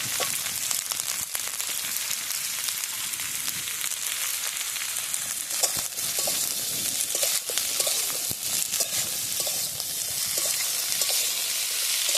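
Cauliflower sizzles and crackles in hot oil in a pan, a steady loud frying hiss with occasional stirring clatter.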